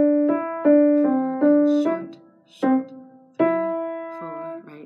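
A piano's right hand plays the opening measures of a beginner piece in staccato, a string of short, detached notes in a steady counted rhythm with brief pauses between phrases, close and clear with no talking.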